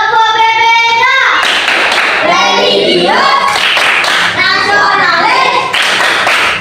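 Schoolchildren in an Indonesian classroom perform the rhythmic PPK clap, loud group clapping in patterned bursts interleaved with chanted words from the class.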